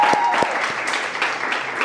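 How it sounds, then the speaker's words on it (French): An audience at a music show for an album presentation claps steadily and densely, a loud burst of applause with no voices over it. "J'aimerais qu'on applaudisse pour lui et toute l'équipe."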